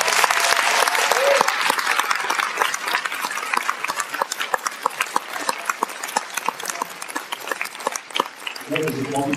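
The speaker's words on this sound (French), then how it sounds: "J'ai demandé beaucoup d'applaudissements" Audience applause at a film premiere in Paris: dense clapping from a crowd that gradually thins into scattered, sharper individual claps, with a brief voice near the end.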